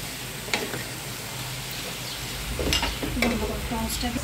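Vegetables and spices stir-fry in oil in a frying pan with a close, steady sizzle and scraping stirs that grow louder partway through, and a brief voice is faintly heard.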